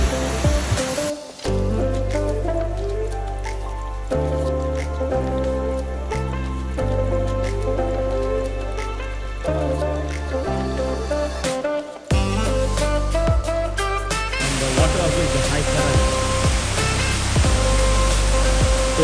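Kuang Si waterfall near Luang Prabang, Laos, a steady, loud rush of falling water filling the scene, broadband and continuous, with musical tones mixed in throughout.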